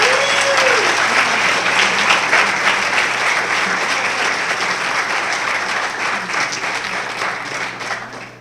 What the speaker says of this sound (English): can I get a clap for Stephanie Cruz?